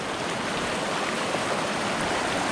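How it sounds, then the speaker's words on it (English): Water rushes steadily through a gold-prospecting fluid bed, a close, even hiss and splash with no pauses and no voices. "the water is flowing pretty good. My fluid bed's working"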